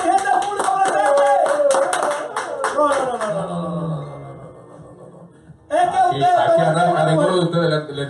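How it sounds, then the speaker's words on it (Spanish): Loud crowd applause and clapping with a cheering voice over music, fading, then bursting back strongly near the end. "Un aplauso a mi gente del público presente."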